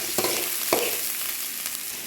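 Onion sizzles in olive oil in a pan, a steady bright crackle with a few stirring scrapes and clicks breaking through the hiss.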